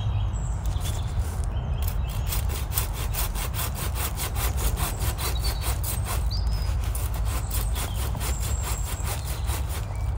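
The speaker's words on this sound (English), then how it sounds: "I don't know how sharp my silky saws are." A Silky pruning saw cuts through bonsai maple wood with a steady, fast back-and-forth rasping stroke, close and continuous throughout, with no talking.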